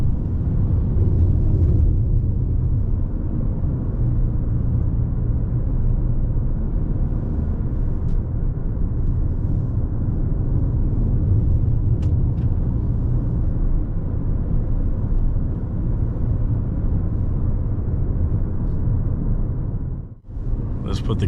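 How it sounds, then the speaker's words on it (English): Toyota Corolla Cross 2024 2.0 hybrid with a CVT gearbox, engine revving high in eco mode on a forest drive, a loud steady droning rumble heard from inside the cabin that holds level throughout, then briefly dips near the end. "As you can hear, the CVT gearbox revs pretty high."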